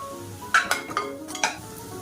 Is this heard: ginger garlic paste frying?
yes